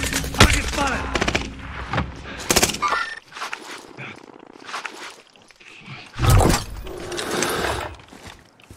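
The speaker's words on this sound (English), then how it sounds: "Someone else is shooting. I'm getting shot." Video game shooter gunfire crackles in sharp bursts and rapid volleys, loud and close at first, then sparser, with a heavy burst near the end and a voice talking between the shots.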